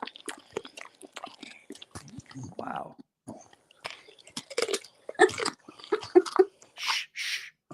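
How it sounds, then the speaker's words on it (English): A dog crunching on raw vegetables, with sporadic close crisp bites and chewing between short pauses and hushed comments from people nearby. "it's a thing to listen to dogs crunching on vegetables"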